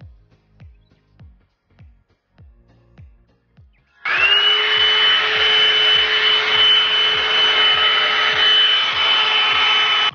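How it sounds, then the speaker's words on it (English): A handheld hair dryer switches on at high setting after a few soft ticking sounds, then blows as a loud, steady whine and rush of air that runs to the end, close up and without speech. "then you're gonna put it on high, and then you're just gonna start blowing your hair out"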